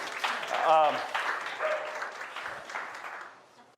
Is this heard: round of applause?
yes